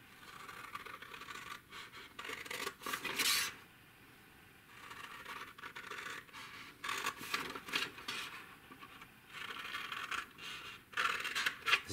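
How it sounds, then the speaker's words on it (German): Scissors snipping lines into folded paper up to the first crease while making a diamond-shaped box, with repeated short scratchy cuts in several bursts, close and fairly quiet. "Und jetzt schneide ich alle Linien bis zur ersten Falz ein"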